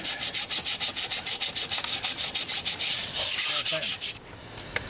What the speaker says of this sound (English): just keep scrubbing until we get all that rust and crud out of there